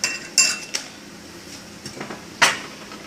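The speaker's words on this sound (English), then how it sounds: "Now, I use the spoon to basically pull it out." A metal spoon clinks against a pot while lifting fried plantain out for mofongo, giving a few sharp, close metallic knocks spread over a few seconds with quiet gaps between them.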